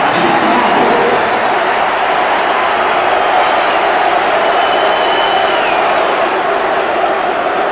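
Workington fans in the crowd behind the posts at a 1993 rugby league divisional premiership match against Featherstone cheer loudly in a dense, sustained roar with a faint commentator's voice beneath.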